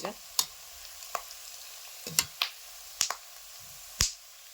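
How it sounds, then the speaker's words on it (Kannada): Peanuts crackle as they fry in a pan with onion and garlic, giving sharp, scattered pops at irregular intervals over a soft sizzle, close and fairly quiet. "ಇವ ಶೇಂಗಾ ಬೀಜನೂ ಚಟಾಪಟ ಸಿಗ್ಲಿತ್ತು ನೋಡ್ರಿ, ಮಸ್ತ್ನೇ ಫ್ರೈಗೆ"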